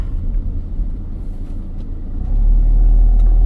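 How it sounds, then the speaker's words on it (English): A car passes close by on a narrow road, its low engine rumble swelling loud and steady toward the end as it nears. "There's a car coming."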